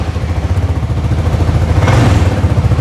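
A Zontes 368 scooter engine idles close by: a steady, even low throb with a faint mechanical clatter and no speech.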